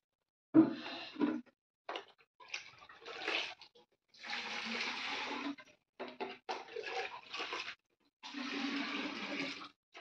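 Water pours and splashes onto flower and vegetable plants in a home garden, coming in several separate runs of a few seconds each, close and fairly quiet.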